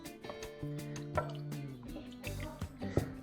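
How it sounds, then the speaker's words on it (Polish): Water poured into pierogi dough in a home kitchen, soft close trickles and drips, quiet and intermittent, with no talking. "Jeszcze troszeczkę doleję, bo tej wody będę miał mało."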